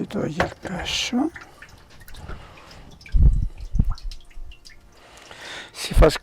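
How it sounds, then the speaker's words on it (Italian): Water drains from a papermaking mould holding wet paper pulp in a traditional paper workshop: a close patter of drips and trickles, with louder splashes at moments, heard under a person speaking. "si fa scolare l'acqua il più possibile in modo che il foglio viene il più uniforme possibile"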